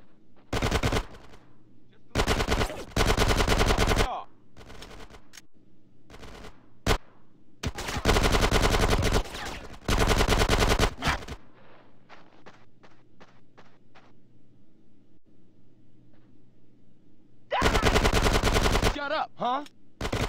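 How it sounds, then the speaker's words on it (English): Rapid bursts of automatic gunfire from a Grand Theft Auto: San Andreas shootout, loud repeated volleys separated by short pauses, with scattered single shots in between. "Get some suppressing fire in there!"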